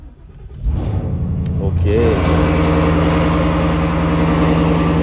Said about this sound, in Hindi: और ये बैठ गया मैं गाड़ी के अंदर एंड चलो करते इसको स्टार्ट।